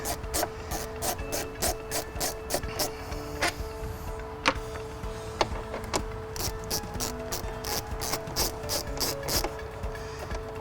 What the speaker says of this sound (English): This is your 10mm socket right here. We're just going to go ahead and take those off.